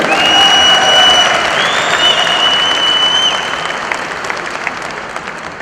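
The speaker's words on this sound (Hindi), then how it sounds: "क्या इन सभी 1800 अचीवर्स के लिए एक जोरदार राउंड ऑफ तालियां हो जाए।" A large audience applauds for 1800 achievers at a company meet, dense clapping that begins strong and fades gradually, with a few brief tonal squeals over the crowd.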